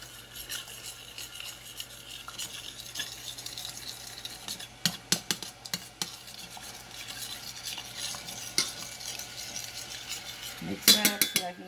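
Butter being stirred into yellow rice in a pot, a spoon scraping and tapping through the grains with quick clinks and a burst of rapid stirring near the end, over a low kitchen hum.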